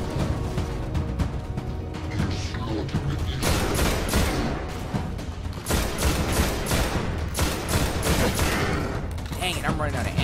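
Dense automatic gunfire from the video game Destiny during a boss fight, sustained bursts of rapid shots with booming impacts layered over game music and effects.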